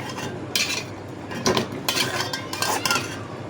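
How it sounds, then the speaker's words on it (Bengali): Metal spatula scraping and clattering in a pan while bottle gourd and snakehead fish curry is stirred, several close bursts of scraping in a steady, uneven rhythm. "নাড়াচাড়া করে নেব"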